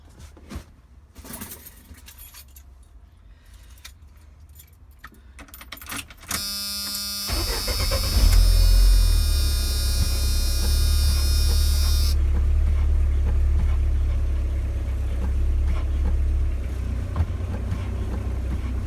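After a few quiet seconds of faint clicks and rattles, a Jeep YJ engine cranks and fires up after a brake booster replacement, settling into a loud, steady idle with a brief high whine.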